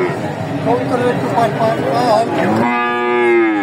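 People talk nearby at a cattle market in Bogura, Bangladesh, then a heifer lets out a loud, close, drawn-out moo.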